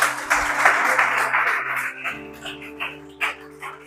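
A church congregation applauds through a worship service, the clapping fairly close and steady at first, then thinning into scattered bursts over a sustained low musical tone.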